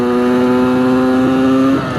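A supermoto motorcycle engine with a worn piston revs and holds a steady, buzzy drone at close range for about two seconds, then the revs drop slightly near the end; no voices.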